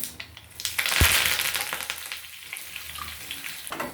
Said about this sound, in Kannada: ಸ್ವಲ್ಪ ಕರಿಬೇವಿನ ಸೊಪ್ಪು ಹಾಕ್ತಾಯಿದ್ದೀನಿ